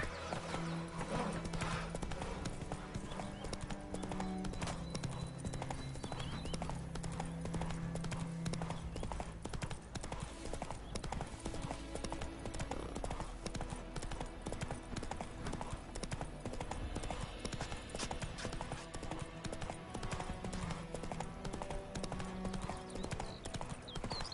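Roach, a horse in The Witcher 3 on PS5, gallops with steady, loud clip-clopping hooves for the whole stretch, with game music and faint speech-like sounds underneath.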